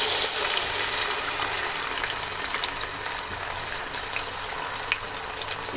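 Onion, ginger and garlic puree frying in hot cooking oil for achari chicken, a steady close crackling sizzle with faint stirring scrapes and a low recurring hum underneath, no voices.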